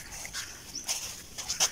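Several short, high-pitched dog yelps or whimpers come in quick bursts over faint background noise, heard from a moderate distance.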